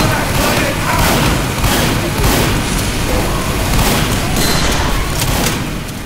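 Gunfire and explosions from a Team Fortress 2 match, a dense, continuous barrage of booms, thuds and shots that stays loud throughout with no clear gaps, while voices talk faintly underneath.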